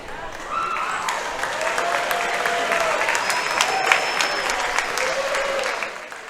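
Steady applause from the crowd at a high school varsity basketball game, clapping for the 2016 Casaba nominees between Roseville and Ponderosa, sustained for several seconds before trailing off, with scattered voices and a faint whistle.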